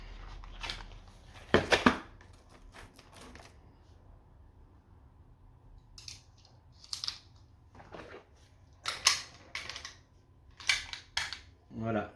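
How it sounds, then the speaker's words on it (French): A 15mm rubber-steel round being loaded into the magazine of a Bruni P4 blank pistol with a flare adapter: a scattered series of sharp metallic clicks and snaps, close up, with quiet pauses between them. "On va y aller alimenter une balle Titan."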